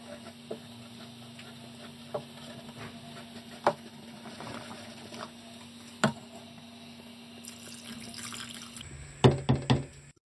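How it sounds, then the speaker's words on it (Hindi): About a glass of water poured into a pot of chicken haleem in a home kitchen, a faint trickling wash with scattered clinks, ending in a few sharper splashes and knocks. "अब हम इसमें 1 गिलास के करीब पानी ऐड कर देंगे।"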